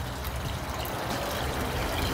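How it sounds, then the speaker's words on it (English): Water pours steadily from a pelican-shaped waterfall into a backyard pond, a dense, even rush of splashing that stays close and continuous throughout, with no voices. "The pelican waterfall, I guess you could call it."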